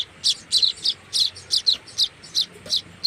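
Wild sparrow chicks chirp in quick high, sharp bursts, about ten evenly spaced calls, close and clear against quiet surroundings.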